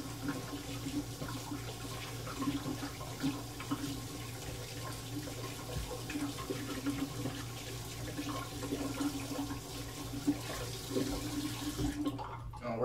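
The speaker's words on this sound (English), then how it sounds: "And then you got to rinse out your brush." Steady tap water runs and splashes over a shaving brush being rinsed in a sink, a continuous close hiss with light spattering that cuts off abruptly near the end.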